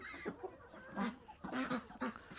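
Ducks quack in a burst of several honking calls, close by and moderately loud, with short pauses between them.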